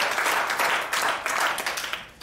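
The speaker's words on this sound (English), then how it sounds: "always give the Lord a hand clap." A church congregation claps hands together in a short burst of applause that surges in a few uneven waves and then gradually tapers off.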